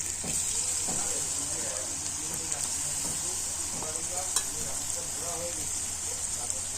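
Fish, potatoes and tomato sizzle in a pan while being slowly stirred, a steady hissing fry with intermittent scraping and clacking of the utensil, close and continuous.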